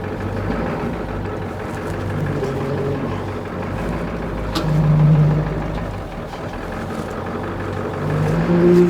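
Ford F350 with a 7.3 Powerstroke diesel engine idles and creeps slowly in reverse into a shop, a steady low rumble with a slight swell in engine note partway through and near the end, loud and close with no talk.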